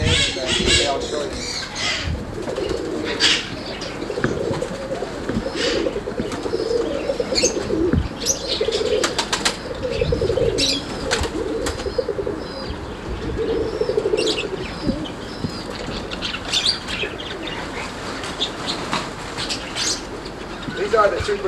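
Roller pigeons from a breeder's loft coo repeatedly in low soft phrases, with bursts of flapping wings and occasional squawks, close by, while someone talks over them.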